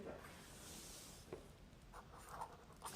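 A pen scratches across paper in short, faint strokes, close by against a low background hum, with no voice over it.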